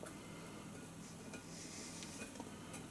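Carrots and onions get stirred around a pan in warm oil, giving a soft, steady sizzle with light scraping and clinks of the utensil against the pan, close and unbroken.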